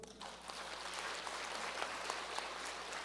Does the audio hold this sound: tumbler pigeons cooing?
no